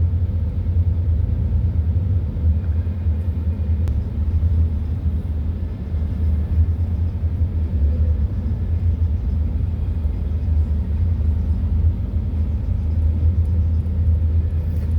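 Continuous low rumble of road traffic in Quezon City, steady engine drone and passing cars on a congested road, loud and unbroken with no voices.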